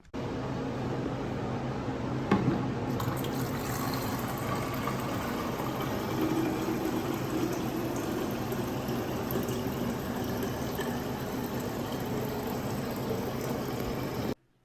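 At a visitor center in Big Bend Ranch State Park, water runs from a refilling station in a steady, unbroken rush, close and even, with a faint mechanical hum beneath.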